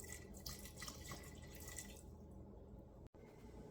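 Vermouth pours steadily into a soup pot of water and potatoes for butternut squash soup, a continuous close liquid trickle and splash that fades partway through, with no talking.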